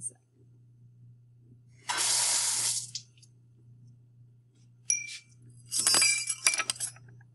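Tap water gushes in two short bursts over chemistry glassware in a quiet lab, each lasting about a second, with faint glass clinks around them and a low steady hum throughout.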